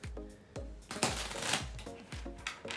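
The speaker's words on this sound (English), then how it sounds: "Shuffle them up." A deck of playing cards is shuffled during a card trick, with several quick riffling bursts and soft slaps in close, crisp succession.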